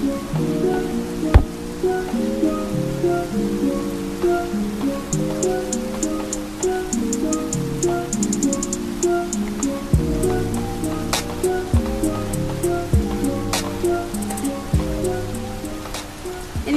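Ocean surf washes steadily along a beach map in a video game, a continuous rushing wash heard beneath looping melodic game music with no talk.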